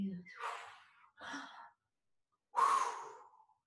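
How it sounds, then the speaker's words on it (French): Slow, audible breaths drawn in and blown out during a relaxation exercise, three close soft airy puffs separated by short silences. "Et inspire et souffle."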